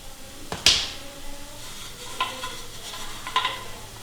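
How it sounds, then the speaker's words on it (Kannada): A spoon scrapes and stirs popcorn kernels in a pressure cooker over a medium flame, giving a few brief clattering strokes against a steady soft hiss. "ಸ್ವಲ್ಪ ಮೀಡಿಯಮ್ ಫ್ಲೇಮ್ನಲ್ಲಿ ಇಟ್ಕೊಂಡು ಈ ಥರ ಮಿಕ್ಸ್ ಮಾಡ್ಕೋತಾ ಇದ್ದೀನಿ"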